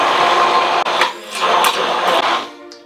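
Immersion blender premixing a vegetable oil sauce, a loud close motor whir with brief dips and surges as the blade moves through the mixture, fading out at the end.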